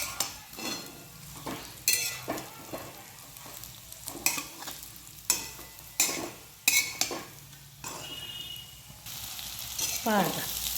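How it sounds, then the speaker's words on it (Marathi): Coriander vadis fry in hot oil in a pan with a soft, steady sizzle, while a spatula scrapes and stirs in repeated clacking strokes close by. "आपण मस्त अशा हलवून घेऊ, परतून घेऊ."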